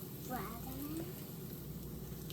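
An egg sizzles and fries in a pan with a steady, soft crackle, while a few quiet tonal voice or squeak sounds drift over it near the start.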